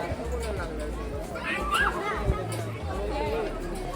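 Crowd chatter fills the grounds of Narsobawadi temple, a close, continuous murmur of overlapping voices with a few children's shouts rising briefly above it.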